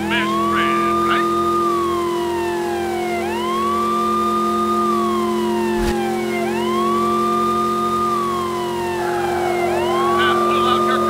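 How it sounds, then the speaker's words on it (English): A police car siren in the PS2 game True Crime: New York City wails up and down in a steady repeating cycle. It sounds loud and close over a constant engine hum. "Let's hear your siren"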